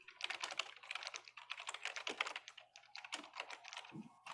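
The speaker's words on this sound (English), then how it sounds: "Whoever is typing in their computer, please mute yourself." Rapid typing on a computer keyboard picked up by an open mic during a community board meeting, a fast irregular clatter of key presses with brief pauses, fairly close and alone.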